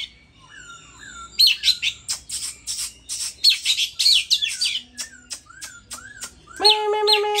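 A recorded laughingthrush song plays from a file, a close, loud run of bright whistled phrases, rapid chattering bursts and rising notes in uneven clusters, alone without talk.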